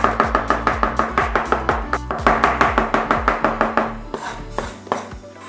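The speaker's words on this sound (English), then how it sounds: "Let's chop them up." Sydney Rock oysters being chopped on a chopping board: a fast, steady run of close, crisp knife strikes, slowing and loosening near the end.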